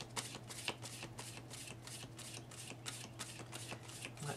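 Tarot cards being shuffled by hand in a steady run of about a dozen crisp riffling bursts, close and fairly quiet, with no talking.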